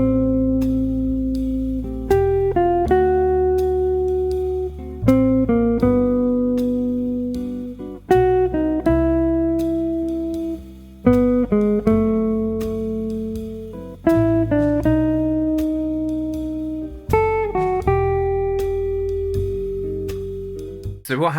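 A melodic instrumental line plays over chord changes, enclosing each chord's third, with plucked-sounding notes in phrases that restart about every three seconds, clear and close with no voice.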